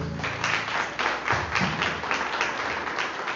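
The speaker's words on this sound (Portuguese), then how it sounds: "Pode aplaudir a Jesus." A church congregation applauds in rhythmic, even claps, a dense and moderately loud burst of clapping in a large room.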